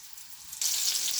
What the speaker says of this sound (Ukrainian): смажимо е, швиденько з двох сторін.